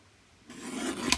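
Paper excess is trimmed from a tag topper, a brief close rasping cut that swells after a quiet moment and ends in a sharp snip.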